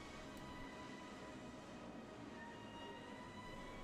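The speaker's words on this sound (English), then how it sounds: "The two trains of the People Mover system are hauled around by a cable" Cable-hauled People Mover train in Venice rolling steadily, a constant low rumble with a faint high whine, even and unbroken, heard from on board without any talking.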